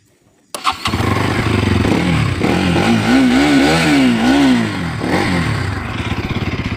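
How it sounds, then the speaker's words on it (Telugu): A Bajaj Pulsar motorcycle with a loud exhaust fires up abruptly from silence, then settles into a throaty idle broken by several rising and falling revs, close and loud throughout. "కానీ దీని ఎగ్జాస్ట్ అయితే చాలా లౌడ్ ఉంటుంది,"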